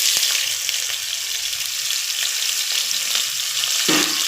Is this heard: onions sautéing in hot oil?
yes